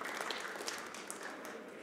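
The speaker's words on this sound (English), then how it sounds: "got to give him some applause" Applause from the crowd at a 10-ball pool match between Efren Reyes and Francisco Bustamante at the 2016 Derby City Classic, a faint, steady patter of clapping from a distance with no talk over it.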